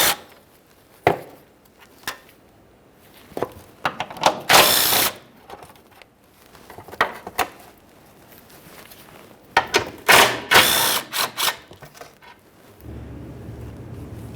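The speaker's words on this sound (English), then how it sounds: "let's remove all of these bolts" A ratchet works 13mm mounting bolts loose from the lower shield of a 2002-2009 Chevrolet Trailblazer 4.2L L6, giving clicking ratchet strokes in several separate bursts with scrapes and knocks between, close and without talk.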